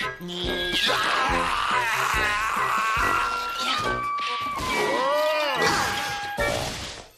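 In a cartoon, something smashes into a transporter amid a busy jumble of cartoon sound effects, with bangs, whooshing and warbling electronic tones, and a bending, siren-like whine later on.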